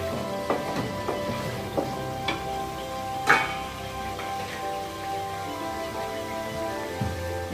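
Pieces of mutton liver sizzle and crackle in hot oil, with a steady frying hiss, scattered sharp pops and ticks, and one louder burst midway.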